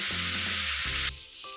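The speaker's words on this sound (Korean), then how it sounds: "간장 1스푼을 넣어주시고 기울여서 간장을 좀 태워줍니다" Soy sauce hitting a very hot tilted wok for Chinese-style stir-fry with bok choy, giving a loud, close, intense sizzle that suddenly cuts down to a quieter fry.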